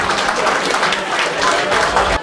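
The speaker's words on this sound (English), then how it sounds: "Let's give him a big round of applause." An audience gives a hunter a round of applause at a buck pole event, loud dense clapping sustained for a couple of seconds.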